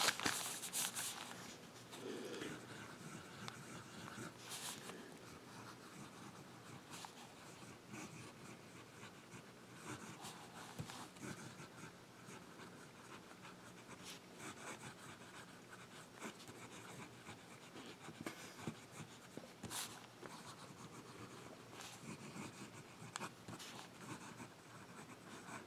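An Esterbrook fountain pen with a medium nib writes on paper, producing faint, steady scratchy strokes in a quiet room with no talking.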